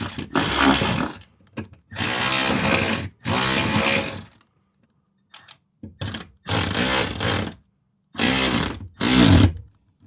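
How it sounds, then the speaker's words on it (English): A small ratcheting hand tool drives a fastener into the bracket of a FLEXIMOUNTS 4x8 overhead garage storage rack. It comes in several loud, rasping bursts of a second or so, with short pauses between them. "I have a little ratcheting tool here that we will ratchet it down"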